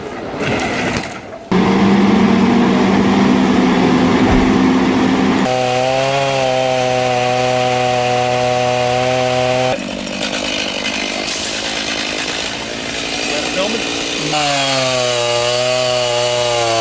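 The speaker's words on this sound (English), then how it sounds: "Proper technique here with the Stihl MS-290." A Stihl MS-290 chainsaw cuts through a storm-felled oak, loud and close, its engine holding a steady high whine while cutting, then dropping and rising as the throttle changes, with no talk over it.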